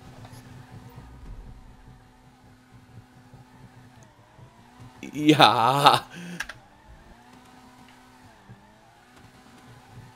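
A car slowly climbing a staircase in GTA 5 Online on a custom map, with a steady low engine drone throughout and a short, loud clattering burst near the middle. A voice speaks briefly.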